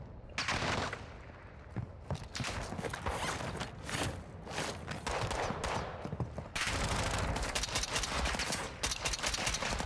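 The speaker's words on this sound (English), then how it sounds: "I don't know what's shooting me through there" Rapid, dense gunfire from the Call of Duty DMZ video game, with repeated automatic bursts and fusillades that continue almost unbroken at close range for about ten seconds.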